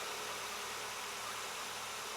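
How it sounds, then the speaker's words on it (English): A car engine idles steadily while warming up before an oil drain, a low, even hum with no other sounds in the short stretch. "So now the engine is running"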